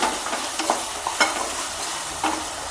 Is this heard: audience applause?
no